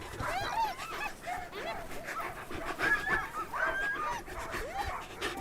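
A team of Greenland sled dogs in the polar cold, eager to run, fills the air with excited whines, yips and high whimpering cries that overlap continuously at close range, with no talk.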